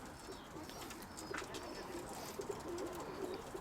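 Soft, low pigeon coos repeat through the clip over a steady background hiss, with a few faint chirps above.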